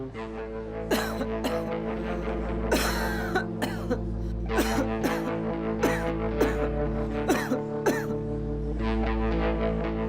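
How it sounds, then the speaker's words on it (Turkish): Repeated coughs during a doctor's lung examination, several in a row with short gaps, close and fairly loud over a low steady hum and faint tonal background. "Öksürün."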